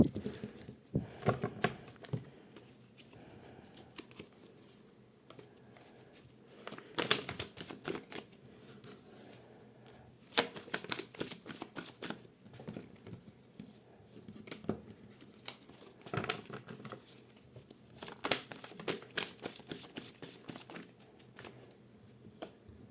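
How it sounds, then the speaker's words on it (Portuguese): A deck of tarot cards being shuffled by hand, heard as repeated bursts of papery riffling and clicking that come and go in uneven clusters, close and fairly quiet with no talking. "Vou embaralhar novamente."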